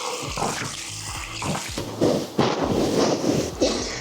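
Water splashes at a sink as face cleanser is rinsed off, a series of irregular close splashes and hand slaps with running water in between.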